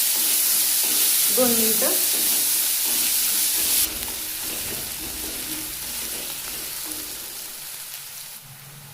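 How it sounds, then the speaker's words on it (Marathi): Onions sautéing in a pan for a paratha filling, a loud steady sizzle and hiss close by that eases partway through, with a spoken voice briefly over it. "सर्वात आधी आता आपण कांदे वापरूया। कांदे परतून घेऊया"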